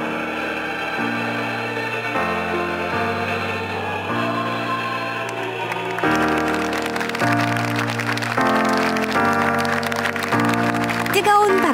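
Theatre audience applauds at the close of a play during a public theatre festival; steady music plays throughout, and a dense wash of clapping swells over it in the second half.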